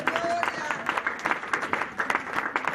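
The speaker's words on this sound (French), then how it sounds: "Est-ce que quelqu'un peut acclamer Dieu?" A church congregation applauds and cheers in praise of God, a dense run of clapping close by with voices mixed in, steady across the short stretch.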